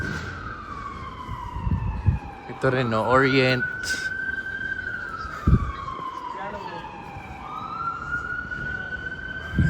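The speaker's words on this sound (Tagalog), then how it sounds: "Naririnig niyo yung ambulansya, no?" An ambulance siren wails steadily in the distance on Gran Via in Madrid, its tone slowly rising and falling under street noise, while a person talks briefly nearby.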